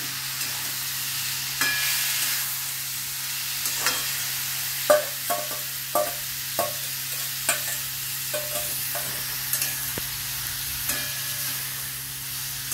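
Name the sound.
chicken frying in a pan with yogurt for chicken masala pulao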